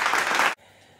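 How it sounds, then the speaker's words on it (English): Brief burst of dense clapping for a young speaker introducing herself, loud for about half a second and then cutting off abruptly into near silence. "And I deserve a round of applause for that."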